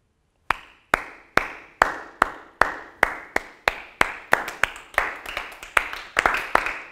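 Single slow claps ring out in an office, spaced and steady at first, then quickening into a denser patter of overlapping hand claps toward the end, fairly close and with no talking.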